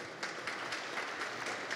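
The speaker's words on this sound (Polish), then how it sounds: "Oklaski się należą oczywiście panu ministrowi" An audience at a conference applauds a minister with steady, fairly faint clapping that continues evenly throughout.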